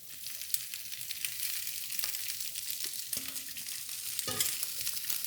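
Leeks sauté in a pan with a soft, steady sizzle and an occasional light knock, close by and fairly quiet, with no voices over it.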